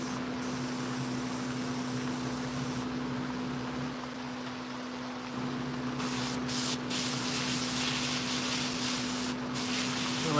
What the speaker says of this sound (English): Problem with airbrushing black is it's so thin that I will have to go through and do multiple coats